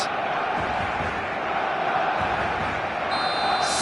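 Stadium crowd in a football video game on a clear evening, a steady, dense wash of voices singing and chanting from the stands, holding constant throughout with a brief high whistle-like tone near the end.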